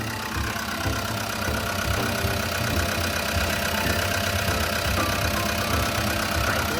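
A 2021 Komatsu WA100-8 wheel loader's diesel engine idles steadily and smoothly, a close, even mid-to-low rumble that holds constant for about seven seconds with no talking over it.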